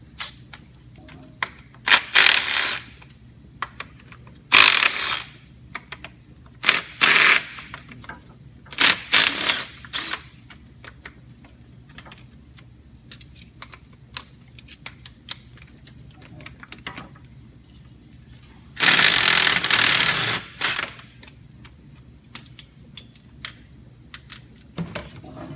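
Metal engine heat shield tins are shifted and handled during an AFM lifter replacement on a GM V8 truck, giving irregular loud clattering and scraping bursts between quieter stretches, close up and with no talking.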